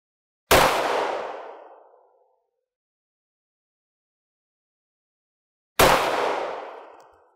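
Two single FN 5.7x28mm gunshots fired at ESAPI body armor ring out about five seconds apart, each a sharp crack with a long echoing decay into silence outdoors.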